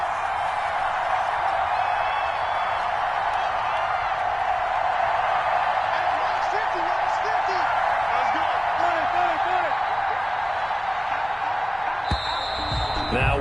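A steady stadium crowd roar in the Madden 21 football video game fills the whole stretch at a constant level, with a play-by-play commentator talking over it and a brief burst near the end.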